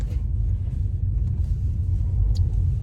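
Low road rumble inside a moving Tesla on a road trip along Route 66, a steady loud drone of tires and cabin noise with a few faint clicks and no talk.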